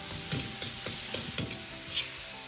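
Tofu is stir-fried in a wok with Pixian chili bean paste, cooking wine and soy sauce: a quiet, steady sizzle broken by half a dozen rhythmic spatula scrapes.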